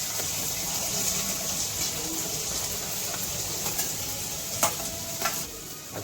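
Chopped onion hisses and sizzles steadily in hot oil with whole spices, with a few stirring clinks and scrapes against the pan, and no talking.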